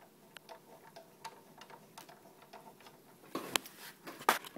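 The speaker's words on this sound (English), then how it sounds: "Just a matter of lining up my bolts into the caliper, into the housing" Metal bolts being lined up and fitted into a brake caliper housing on a Suzuki Freewind motorcycle, sounding as faint scattered ticks that build into a few sharper, closer metallic clicks near the end.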